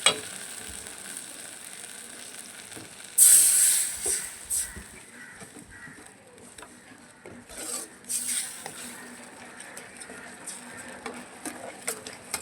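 Egg chili being stirred and mixed with chili sauce in a hot pan, a sudden sizzling hiss followed by scraping and clinks of a utensil against the pan, close up.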